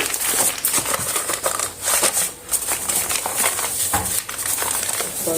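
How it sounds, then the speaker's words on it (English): Paper folded around hot homemade chapatis gives close, crisp crinkling and rustling in uneven bursts with short pauses, and no voice is heard. "Fold this paper like that."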